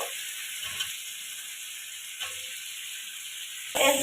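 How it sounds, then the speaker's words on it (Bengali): Steady high sizzle of raw eggplant frying in spice paste, with a few soft knocks and a louder scraping stir at the end. "এখন দিয়ে দেবো এই বেগুনগুলো কারণ বেগুনগুলো আমি আগে ভেজে নিইনি"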